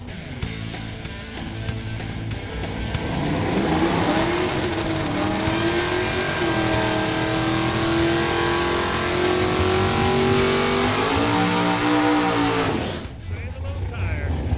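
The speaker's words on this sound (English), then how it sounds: "That is just a nasty looking Corvette." A Corvette drag race car runs its engine at the strip, a loud sustained roar that holds steady and climbs in pitch before cutting off near the end, with voices over it.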